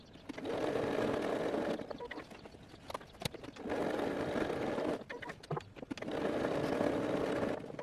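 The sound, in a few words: sewing machine stitching a zigzag stitch on a tote bag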